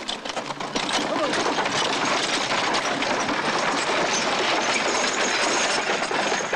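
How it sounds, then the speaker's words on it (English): Wheels of a horse-drawn wagon train roll along a country road, a dense, steady clattering rumble that swells after the first second and carries on evenly at close range. "It's just relaxing to get in the shade here and hear those wagon wheels roll down the country."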